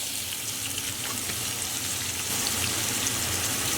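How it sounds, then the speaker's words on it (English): Onions and potatoes fry in vegetable oil in a pot over medium heat, giving a steady, soft, continuous sizzle with faint crackles and no talk. "just on the medium heat we're going to start by adding in our onions and potatoes"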